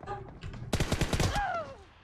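Gunshots in the PUBG video game, a quick loud burst of several rapid shots in close succession.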